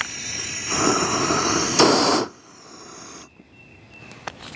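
A propane weed torch roars with a loud steady hiss for about two seconds, then cuts off abruptly, leaving faint residual hiss and a few small clicks nearby.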